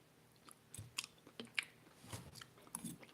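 Crunchy, break-apart corn snack being chewed up close, a few sharp crisp bites and crunches spaced irregularly over a few seconds, quiet overall with no talking.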